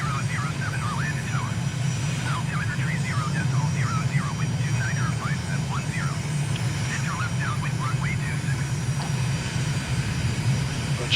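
A MiG jet in Microsoft Flight Simulator flying a low approach near Stockholm Arlanda, its engine a steady, even drone that runs continuously beneath a radio-style voice exchange with the tower.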